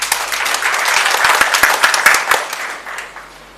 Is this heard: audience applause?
yes